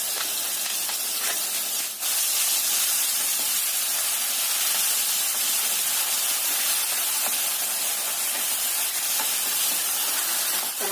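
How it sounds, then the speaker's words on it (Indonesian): Spice paste sizzles in hot oil in a pan, a loud, steady frying hiss that runs unbroken and close. "Ini setelah agak panas minyaknya, kita masukkan bumbunya. Kita tumis sampai bumbunya matang"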